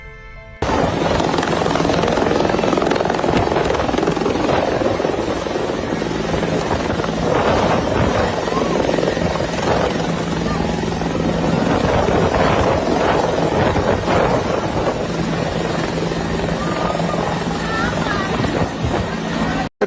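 A helicopter drops aid supplies, its loud, steady rotor and engine roar filling the whole stretch with wind buffeting, and voices talk faintly underneath.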